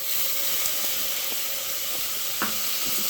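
Native tomatoes sizzling in hot oil in a pan while being sautéed for a fish curry, a steady close hiss with small crackles and an occasional stir.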